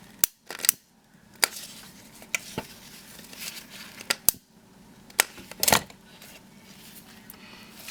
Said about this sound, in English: ribbon here, just cut it a little bit. Cut the other.